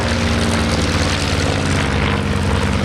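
A Ryan Navion light aircraft, powered by a single 260-horsepower Lycoming O-435 flat-six engine, drones loudly and steadily at an air show, its propeller hum continuous and unbroken throughout, with no voices.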